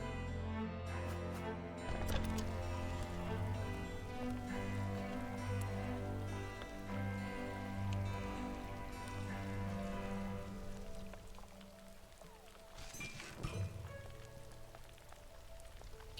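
Storm rain patters steadily on surfaces in the video game Against the Storm, a soft continuous hiss under sustained musical tones, with a couple of brief louder hits.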